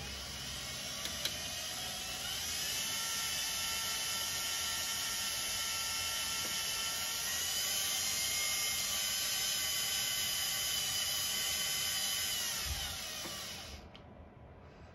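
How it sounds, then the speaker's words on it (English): An Alpeco TEX fuel delivery pump runs with a steady mechanical whine and hum for about thirteen seconds before cutting off, with no talk. "Once you're ready to pump, just press start"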